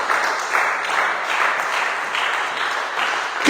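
A church congregation applauds loudly during an acclamation for Jesus in a French-language worship service: sustained, dense clapping with rhythmic surges, steady from start to finish.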